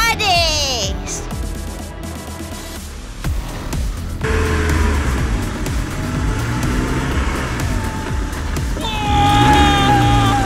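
A cartoon car races in a chase, engine revving and roaring under excited voices, with whooshing effects and music, loud and busy throughout.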